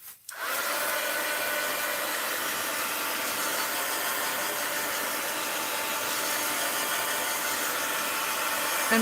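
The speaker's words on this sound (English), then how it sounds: "I want to pick up my heat gun." A heat gun blows hot air in a continuous, steady whoosh, switching on at the start and running evenly and close up for several seconds with no talking.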